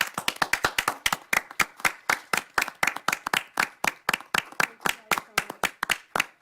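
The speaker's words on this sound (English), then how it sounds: "so we can give you a round of applause" A small group at a Brisbane city council meeting claps in steady, evenly spaced beats, loud and close, the rhythmic hand claps continuing without pause.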